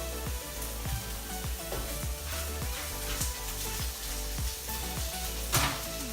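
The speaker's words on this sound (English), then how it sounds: "Get that little sizzle, you know it's hot enough." Peppers and tomatoes sizzle and crackle in a hot pan, a steady loud frying hiss with repeated soft stirring knocks throughout, no voices.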